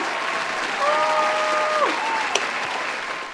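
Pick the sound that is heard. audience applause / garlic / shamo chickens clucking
audience applause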